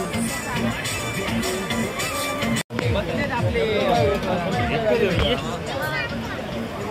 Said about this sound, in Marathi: जाम गर्दी आहे.